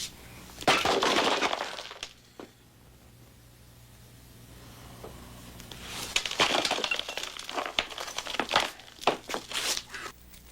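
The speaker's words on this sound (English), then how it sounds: "Now break the bulb." A light bulb shatters inside a plastic bag, with a sharp glassy crunch, a quieter stretch of rustling, then repeated crunching and crinkling of glass and plastic up close.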